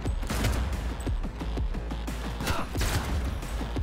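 Rapid automatic gunfire in the video game Cyberpunk 2077, a dense run of sharp, close shots repeating in quick bursts over a low rumbling game soundscape, with no talking.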